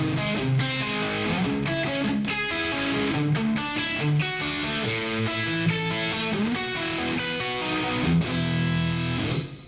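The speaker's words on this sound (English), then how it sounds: "ended up having to play it on guitar" Electric guitar with a distorted, effects-laden tone playing a song, a continuous loud flowing melodic line over sustained chords, with no talking.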